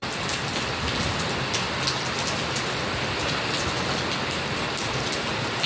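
A downpour of heavy rain hisses without a break, thick and close, its drops drumming evenly on nearby surfaces for several seconds with no one talking.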